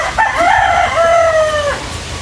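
A rooster crows once loudly and close by, a long rising and falling call lasting under two seconds, among farm chickens early in the morning, with no talking.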